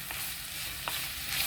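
Ginger and mutton sizzling as they sauté in a clay pot, a steady hissing fry with a couple of brief stirring scrapes.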